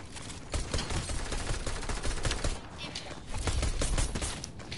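A pistol fires repeatedly in Fortnite, in quick, uneven bursts of shots mixed with other gunfire and game noise, loud and continuous throughout.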